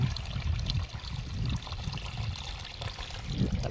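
Water poured out of a rooftop water tank during cleaning, a steady close splashing stream and trickle with a few surges, running without pause.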